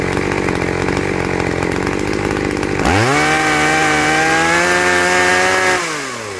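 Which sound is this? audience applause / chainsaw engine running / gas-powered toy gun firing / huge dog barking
chainsaw engine running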